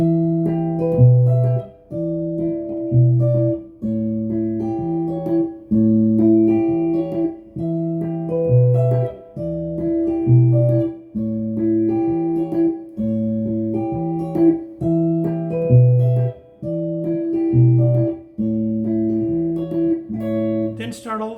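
Guitar chords for a song strummed in a steady repeating loop, clear and close, with no voices.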